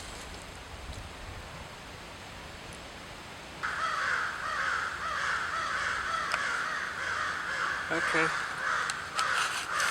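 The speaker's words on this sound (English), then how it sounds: "Hope y'all like the birds." Crows cawing outdoors during a friction fire and char cloth session, harsh repeated calls in a steady run over a constant hiss of background noise, with a brief spoken word early on.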